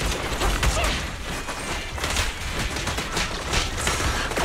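Sustained gunfire rattles in Zenless Zone Zero, with dense, loud volleys of shots and impacts running continuously and close.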